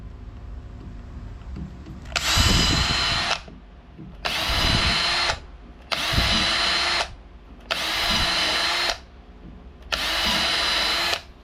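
A power drill tightens a nipple fitting on a homemade drop-filter setup for vinyl fence washing. Five even, close bursts of whirring drill motor, each about a second long, are separated by short pauses.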